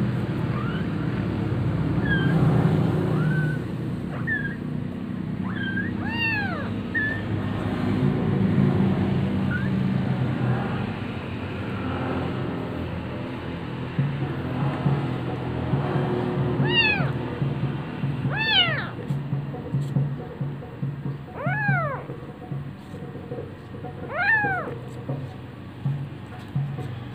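Hungry, wet kittens meow repeatedly in short rising cries, a few early calls and then clusters of louder meows later, over a steady low rumble of background noise.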